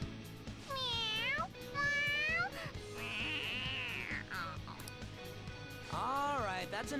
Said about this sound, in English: Alright, that's enough, you stupid cat.